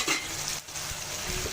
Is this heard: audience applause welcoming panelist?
no